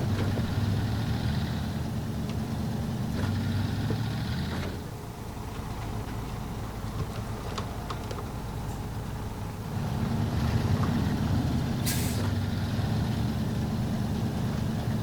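Fleetstar truck in SnowRunner, a low continuous engine rumble that drops off for a few seconds and then swells back, with faint clicks and a brief sharp hiss of air brake near the end.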